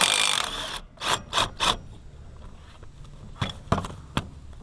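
A 5/8 bolt is worked loose on a Craftsman mower's sector gear and drag link, giving a few short ratcheting bursts followed by sparse metallic clicks and knocks, close and fairly quiet.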